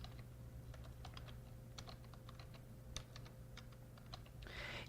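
Someone types on a computer keyboard while filling in a document table, giving soft, scattered key clicks at an uneven pace over a low steady hum, with no talking.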